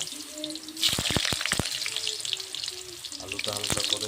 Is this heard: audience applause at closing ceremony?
no